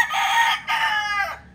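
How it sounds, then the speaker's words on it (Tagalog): A fighting rooster crows loudly and close by in two strong bursts, the second trailing off into a falling tail, with no voices. "kanino kayang manok yan? Yan, pang sabong yan"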